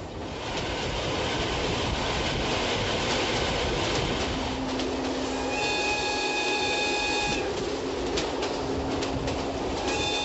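A train rumbles steadily along the rails with a constant broad roar, joined midway by a sustained high whine or squeal from the wheels.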